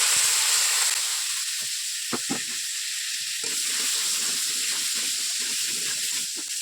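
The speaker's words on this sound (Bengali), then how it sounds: "ওই তেলে একটু পটল ভেজে নিচ্ছি।" Pointed gourd (potol) frying in hot oil in a kadai, a steady close sizzle and hiss throughout with a few brief clinks of stirring.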